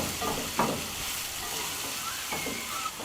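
Vegetables frying in a pan for a stuffed squid and black taglierini dish, with a steady broadband sizzle and a few soft scraping stirs, close and moderately loud, with no voices.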